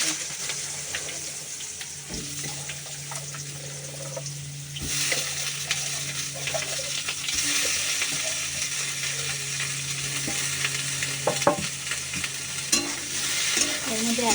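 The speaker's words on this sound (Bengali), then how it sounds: "আলু কুচিয়ে নিয়েছি আলু ভাজবো পরোটার সাথে খাওয়ার জন্য" Chopped potatoes fry in a pan with a steady sizzle and crackle, punctuated by stirring scrapes and clinks close up; the hiss grows louder partway through, with no talking.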